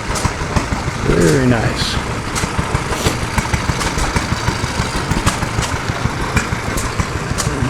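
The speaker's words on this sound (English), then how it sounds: "1926 McCormick Deering engine." A 1926 McCormick Deering Type M hit and miss engine of 1.5 to 2.5 horsepower running at a show, giving a steady chuffing beat of sharp repeated pops, with a brief spoken comment over it.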